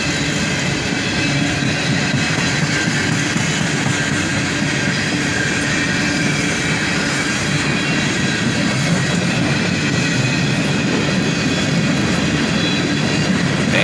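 A CSX freight train with a mix of old Chicago and North Western cars and gondolas rolls past close by, a loud continuous rumble with rhythmic wheel clatter and faint squeal throughout, no talking.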